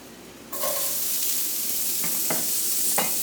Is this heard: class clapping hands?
no